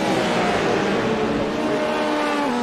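Corvette race cars in iRacing at Spa-Francorchamps roar loudly and steadily, engines holding a high sustained whine with shifting pitch as they run close together through the field.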